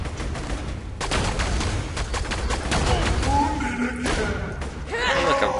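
Sniper rifle fire in the video game Borderlands 2 cracks out in a few sharp reports amid a busy battle mix, with people talking over the action.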